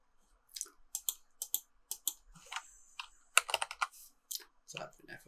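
Typing on a computer keyboard: quiet, irregular clusters of crisp key clicks and taps close by, with faint speech underneath.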